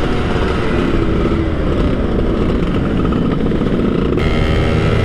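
A two-stroke 2002 Yamaha F1ZR motorcycle runs hard at high speed, its engine a loud, steady, raspy drone that holds for the whole stretch, close to the microphone and without talk.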